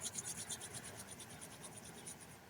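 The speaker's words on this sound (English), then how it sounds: "Rub your palms, make them hot" Palms rub briskly together to warm them, a faint, quick series of dry, rasping swishes in a quiet room with no speech.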